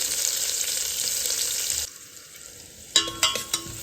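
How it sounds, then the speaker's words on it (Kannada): Half an onion frying in hot oil with cloves, peppercorns and anise, a loud close steady sizzle that drops away, then returns with sharp crackles and spatters as the pan is stirred. "ಈರುಳ್ಳಿ ಫ್ರೈ ಆದಮೇಲೆ"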